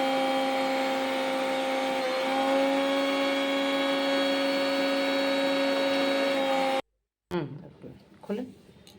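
A mixer grinder whirs steadily at close range as it grinds a paste of mustard and poppy seeds, a loud, even motor drone. It cuts off abruptly near the end, leaving a few clatters and a voice.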